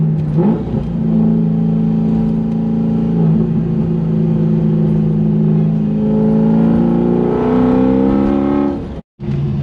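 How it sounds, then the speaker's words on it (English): A loud C5 Corvette engine drones and climbs in pitch, then drops through downshifts with rev changes, close by and without talk. "Listen to this downshift."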